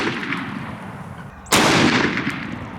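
A shotgun fires a Remington 1-ounce lead slug into stacked pine boards outdoors in the mud: one sharp, loud blast partway through, ringing out briefly after quiet outdoor background.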